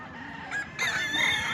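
Roosters at a village cockfight crow and cluck loudly and close by, with a harsh crow rising after a short quieter stretch over a busy outdoor crowd background.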